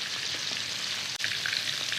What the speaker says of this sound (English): So first fry, if you are double frying, it doesn't take long at all.